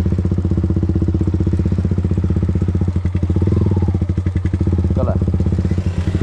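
A modified Yamaha MT15 motorcycle with an Akrapovic full-system exhaust idles close by, its engine putting out a steady, rapid, throbbing beat with slight crackle that rises briefly midway.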